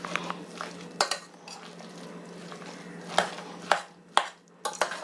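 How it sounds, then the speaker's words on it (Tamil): Ground masala stirred into cooked tapioca in a pan: a spoon scraping and knocking against the metal, with a steady background hum and several sharp clanks. "இப்போ நம்ம மிக்சியில் பொடி பண்ணி வச்ச மசாலாவையும் இதில் சேர்த்துக்கலாம். சேர்த்துட்டு நல்லா கலந்து விட்டுடலாம்."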